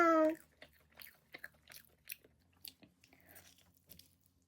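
Close, crisp biting and chewing of fried chicken, a steady run of small crunches and wet chews following a brief voice at the start.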